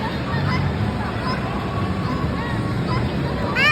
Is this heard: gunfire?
no